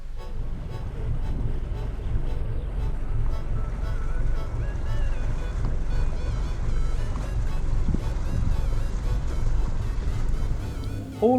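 Boat engine drone on calm water in a large bay beneath smooth cliffs, a steady low rumble with faint tonal whine, continuous and moderately close, with a brief louder knock near the end.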